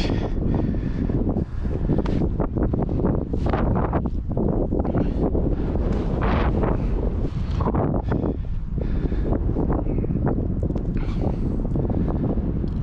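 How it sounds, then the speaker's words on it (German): Strong wind buffets the microphone with constant loud roaring and gusty rumbles throughout, no pauses. "Sehr windig."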